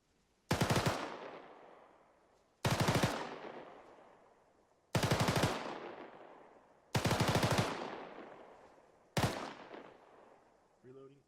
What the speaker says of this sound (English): Do rapid fire. So a little less, 3 to 5. So that's 7 round bursts every 3 to 5 seconds.